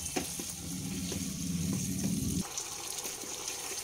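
Cauliflower cooking in a pan with green chilli sauce, soy sauce and black pepper gives a loud steady sizzle that cuts off abruptly after about two and a half seconds, leaving a quieter background hiss.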